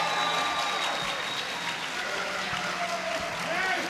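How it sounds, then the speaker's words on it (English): Audience applause for a writers panel at Equestria LA 2012 forms a moderate, continuous patter of clapping for a few seconds, with some crowd murmur and talk underneath. "I think another round of applause for these guys right off the bat"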